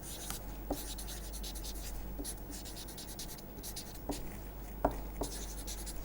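Chalk or marker strokes on a board during a maths lecture give a faint scratching with soft taps. The writing runs steadily for about six seconds, with no talk over it.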